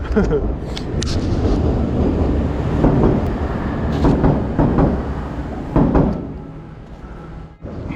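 A train rumbles past nearby a riverbank during winter magnet fishing, a low continuous roar with clanking and rattling bursts throughout, loud and steady over the whole stretch.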